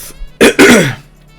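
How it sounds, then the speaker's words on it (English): A person clears their throat twice in quick succession, close and fairly loud, then quiet. "that's a lot of clearing my throat"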